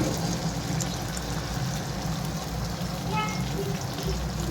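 Beaten egg seasoned with salt, turmeric and rice flour goes into a hot pan for egg bhurji, raising a steady, loud sizzle and frying hiss that holds throughout the clip.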